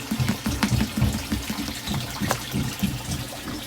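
A dwarf caiman snaps at a school of minnows in shallow water, producing repeated close splashes and sloshing bursts with a trickling, churning background.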